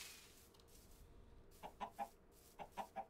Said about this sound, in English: It'd be great if these chickens just laid some eggs.